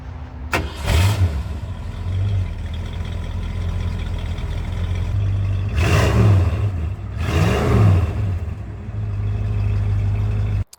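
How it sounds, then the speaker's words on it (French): A 1966 Ford Mustang Fastback GT with a carbureted V8 starts up, then idles with a deep rumble broken by three loud revs before cutting off abruptly. "on va l'écouter, parce qu'évidemment, elle a le son qui va avec cette motorisation et puis cette époque de tous ces V8 à carburateur"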